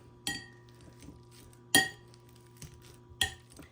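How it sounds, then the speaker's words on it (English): A potato masher mashes bananas in a bowl, giving a few sharp clinks against the bowl at irregular intervals, with soft squishing between, close and fairly quiet. "I'm going to take a potato masher and I'm going to mash them up"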